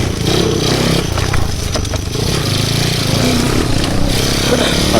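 A new motorcycle ridden hard on a dusty dirt enduro trail, its engine droning steadily and loud throughout with clattering and scraping mixed in.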